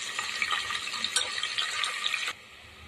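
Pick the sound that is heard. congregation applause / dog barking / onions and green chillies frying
onions and green chillies frying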